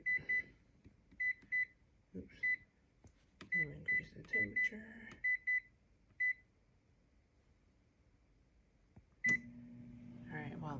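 Sharp electronic beeps from an oven control panel as it is set to bake, arriving in short clusters of single chirps with brief pauses, then a longer steady tone, with quiet kitchen sounds and a little talk between them.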